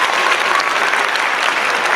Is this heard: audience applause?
yes